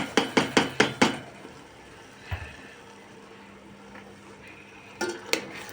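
A spoon clanks rapidly against a pot five or six times, followed by a quiet stretch of beans, tomato paste and onion sautéing, then a few more knocks near the end.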